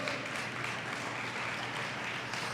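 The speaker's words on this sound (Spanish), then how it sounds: "Sería bueno un buen aplausito para que se animen" A church congregation applauds during a sermon, soft, even clapping from many people, heard at a distance and held steady for a couple of seconds.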